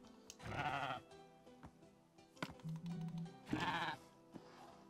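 Llamas in Minecraft give a few short bleating cries, close and moderately loud, separated by quiet gaps with soft game clicks and a brief tonal blip between them.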